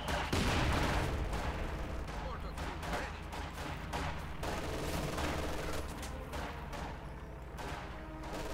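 MG42 machine gun fire in the Company of Heroes 2 strategy game, dense rapid bursts mixed with other battlefield gunfire, loud and continuous, with a commentator's voice faintly under the din.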